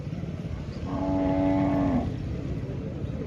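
Cows low in a village while a tractor brings fodder for them to be fed; a single long, steady moo rises over a constant murmur of background noise.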